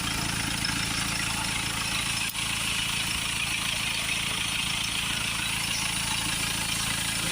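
A Mercedes C-Class 2.1 diesel engine idles steadily with a continuous, even drone that holds unbroken throughout, with no voices over it.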